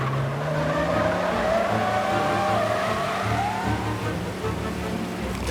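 A car in the Mafia Definitive Edition game loses control in a wreck, with a loud engine roar and screeching tire squeal sweeping across the moment, followed by rumbling.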